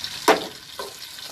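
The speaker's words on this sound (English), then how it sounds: "This oil, I'm going to warm it with a little." Onions hit warm oil in a pot while edikaikong soup is being made. A sharp sizzling burst is followed by a second, softer one, then a faint, steady crackle.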